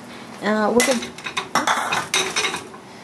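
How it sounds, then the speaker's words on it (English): Rock sugar tossed into a pot of Vietnamese chicken pho broth, giving a sharp clatter and a run of hard rattling clinks against the metal pot, fairly close and loud, after a brief moment of talk. "let me go ahead and throw it all into the pot"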